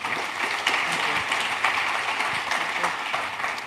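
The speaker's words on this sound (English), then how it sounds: "could everyone please give my panel a fantastic round of applause?" Audience applause for a panel at a wealth summit, a steady dense wash of many hands clapping throughout, fairly loud and sustained without a break.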